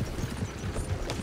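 Horse hooves clip-clop in Red Dead Redemption 2, several quick, soft, close hoofbeats in an uneven walking rhythm over a short moment.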